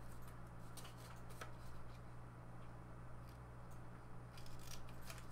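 Scissors cut pattern paper in a run of quiet, close snips and crisp slicing strokes over a steady low background hum.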